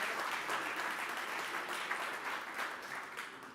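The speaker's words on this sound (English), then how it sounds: "Big round of applause for Eric Matisek for emceeing us and bringing us through the day here." Audience members at a smart city forum in Denver applaud, a continuous mass of clapping heard at a faint, distant level, steady throughout and gently tapering toward the end.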